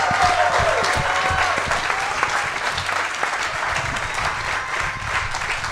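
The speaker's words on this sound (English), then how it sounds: "how about a round of applause tonight for De'Vondre Campbell, the captain, and Aaron Jones" Steady crowd applause for Green Bay Packers players De'Vondre Campbell and Aaron Jones at a live clubhouse show, a full, sustained wash of clapping with faint cheering, continuous throughout.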